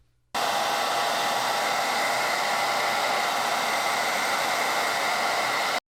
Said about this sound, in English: what I want to do is use a hair dryer